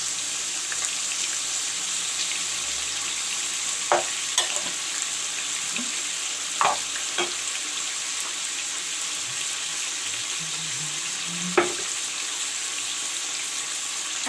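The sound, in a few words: pumpkin frying in a pan with turmeric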